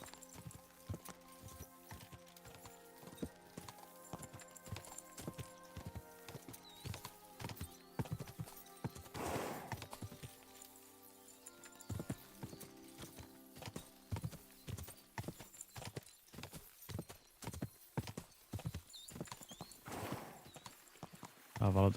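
Horse hooves clip-clop in a video game, a quick steady rhythm of close, distinct hoofbeats throughout, with a neigh partway through and a person talking over it.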